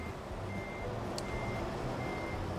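Steady electronic reversing beeps from a truck in American Truck Simulator, repeating at an even pace over a low idling engine rumble, with no talk.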